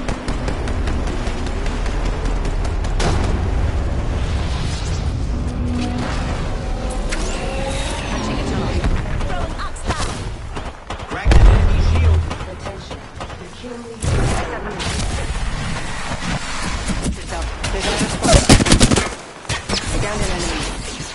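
Loud, sustained automatic gunfire in a shooter game, rapid overlapping shots with heavier bursts around the middle and near the end, over constant battle noise with voice callouts.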